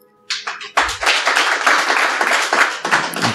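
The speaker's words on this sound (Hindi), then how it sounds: "एक बार जोरदार तालियां आप सभी के लिए।" Loud audience clapping bursts in after a short quiet start and continues densely at a poetry performance, with many hands striking in a steady, full wash.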